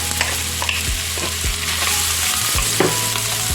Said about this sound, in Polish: Na rozgrzaną patelnię wlałam no tak około dwie łyżki oleju i wsypujemy cebulę.